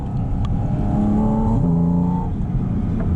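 Porsche 718 Boxster Spyder RS engine pulling hard under acceleration, a loud, close, rising tone that steps up through a shift, heard from inside the car with no voices.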